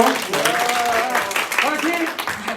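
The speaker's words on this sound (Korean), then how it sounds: "박수 한번 부탁드릴게요." An audience at the 2022 Gyeonggi public-private governance forum claps as a presenter is introduced, a moderate round of applause running under a speaking voice throughout.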